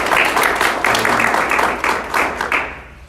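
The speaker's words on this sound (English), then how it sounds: "let's give a round of applause and welcome to Wendi" An audience claps warmly to welcome a speaker, a dense steady round of applause that tapers slightly toward the end.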